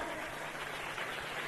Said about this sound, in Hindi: ऐसी तालियां आप अपने लिए बजा रहे हैं